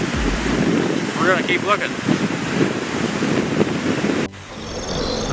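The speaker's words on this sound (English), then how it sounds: "The waves are great." Ocean surf rolls in on a windy, rough day at a Destin, Florida beach, a steady broad wash of waves with wind buffeting the microphone, while a person talks briefly over it.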